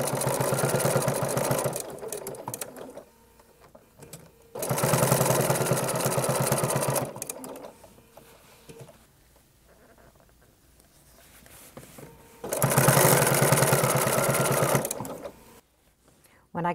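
A sewing machine stitches down raw edge binding in three loud bursts of running, separated by quieter pauses with low talking.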